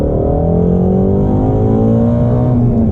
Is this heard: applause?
no